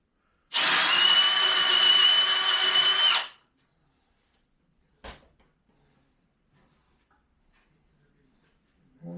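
A power drill bores with a bit during a welding table build, a loud whining burst of about three seconds, followed by a single sharp clank and near silence.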